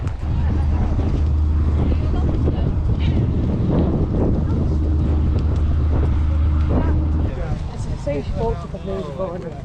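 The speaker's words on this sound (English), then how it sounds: "Still very windy though." Steady wind buffeting outdoors at a car boot sale with low rumbling gusts throughout, and voices talking faintly underneath.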